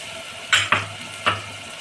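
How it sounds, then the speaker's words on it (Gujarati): Chopped potatoes and cauliflower tipped into a pan and stirred, three short scraping, rustling bursts over a quiet background, close by. "ત્યારબાદ તેમાં આપણે જે બટેટા સમારેલા લીધા હતા તેને એડ કરીશું અને ફૂલકોબીને પણ એડ કરી દઈશું"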